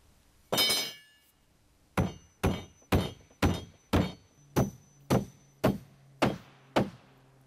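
Hammer driving nails into 2x4 blocking laid flat while framing a shed: one loud ringing blow, a pause, then ten steady evenly spaced strikes, close and sharp with no talk.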